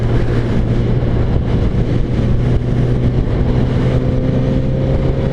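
A Kawasaki Z900RS naked motorcycle cruises in 6th gear at about 70 mph and 4,200 rpm, giving a steady loud engine drone mixed with heavy, blustery wind rush.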